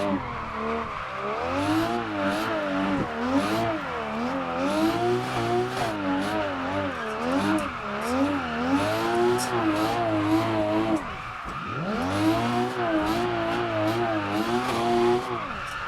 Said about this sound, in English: So my final DWG car that I like is the DWG 240 Modify